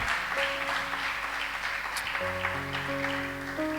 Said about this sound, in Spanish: Eso es digno de otro aplauso al Señor, claro que sí